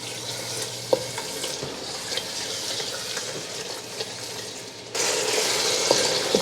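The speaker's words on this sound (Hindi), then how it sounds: "मीडियम आंच में ही आपने इसको पकाना है, इस तरह से भून लेना है।" Chicken liver cooks in masala on a tawa over a medium flame, a steady close sizzle with occasional stirring scrapes, growing noticeably louder and brighter partway through, with no talking.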